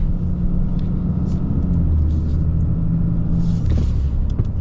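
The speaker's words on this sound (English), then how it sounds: "Cummins sound." Cummins diesel engine of a 2025 Ram 3500 Limited dually pickup truck, a steady low rumble with a deep idle drone throughout, close and continuous, with no one talking.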